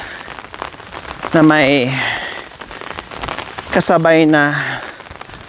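Steady rain falls on a forest trail in a broad, constant hiss, continuing under a voice that speaks in two bursts.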